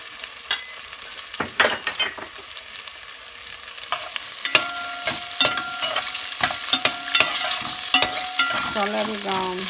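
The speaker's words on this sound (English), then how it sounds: "the oil is hot. Yeah, it is hot. So add in the potato." Potatoes added to hot oil in a pan for corned beef and potatoes, with crackling sizzle and frying and repeated sharp scrapes and knocks of stirring, close and fairly loud.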